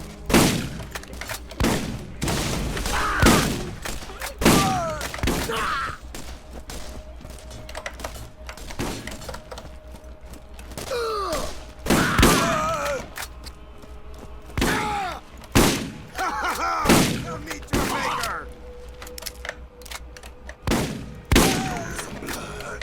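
Gunfire from a weapon in Borderlands played in VR, loud bursts of sharp shots in irregular clusters separated by short pauses, with whooshing and ricochet-like tones between volleys.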